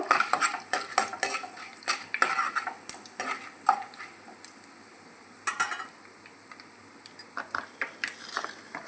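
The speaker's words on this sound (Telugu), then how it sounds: "ఇవన్నీ మంచి బ్రౌన్ కలర్ వచ్చిన తర్వాత వేపుకోవాలి" Curry leaves and four dried red chilies frying in a pan for idli upma, with quiet sizzling under repeated scraping and clinking of a spoon stirring against the metal, no voices.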